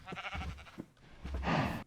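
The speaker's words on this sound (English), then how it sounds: "Finally got some cows to spawn" Minecraft Skyblock cows give short lowing bleats, two brief calls early then a longer, louder moo near the end, close and alone with no talk.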